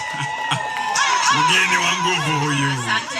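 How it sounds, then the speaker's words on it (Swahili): Crowd at a community organisation gathering in Kenya cheering and whooping with shouts and laughter, a loud sustained roar of many voices from near and far, building over a few seconds with no distinct clap rhythm standing out. "Piga makofi mkijisikia kupiga."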